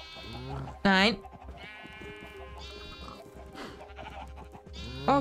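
Sheep bleat loudly on a farm amid background game music and talk: one sharp close bleat early, a quieter one midway, and another at the end.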